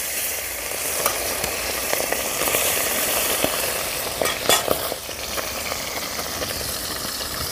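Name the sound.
bata fish frying in hot mustard oil in a wok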